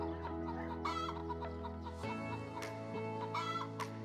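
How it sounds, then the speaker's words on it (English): Chickens cluck and squawk close by, several birds calling over one another in uneven bursts, with a brief crow-like call among them. "Here come 6 chickens."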